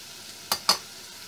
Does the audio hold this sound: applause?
no